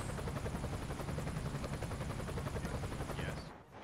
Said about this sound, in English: Helicopter is just hanging out there.